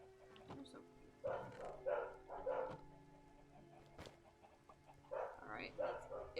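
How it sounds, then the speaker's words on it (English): Real dogs bark somewhere in the background in two short clusters of several yaps each, fairly faint, while a person talks over a video game. "There are dogs in the background."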